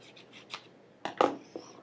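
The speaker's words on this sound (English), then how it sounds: "So grab yourself a pair of scissors. You're going to take that and cut that bottom section that overlaps." Scissors snipping through paper to trim an overlapping section while folding a square, with a few quiet, close cuts and rustles spaced apart, the last snips louder.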